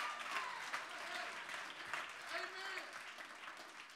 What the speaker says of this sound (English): You ought to clap your hands.